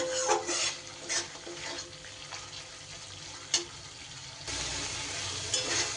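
Thick masala paste fries in oil for an ash gourd dish, spoon scrapes and stirs breaking through a steady low sizzle, with a louder, denser hiss in the last second and a half.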